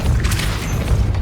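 A heavy, low booming impact of the Depulso spell in the Hogwarts Legacy game, a single close, loud thud that rumbles for about a second.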